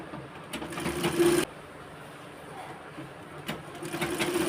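An overlock sewing machine runs in two short bursts, lock-stitching very thin sari fabric, with a steady mechanical whir that stops abruptly, a quiet pause, then starts again.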